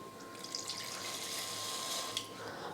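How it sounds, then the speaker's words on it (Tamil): Water streams quietly into country chicken in a pressure cooker, a faint, steady trickling pour lasting a few seconds, heard alone without talk. "இப்போ இதில் தண்ணி சேர்த்துக்கணும்."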